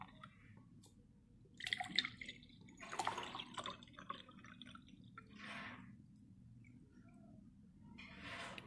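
Water poured into a drinking glass, heard faintly as a few short splashing bursts with quiet gaps between them.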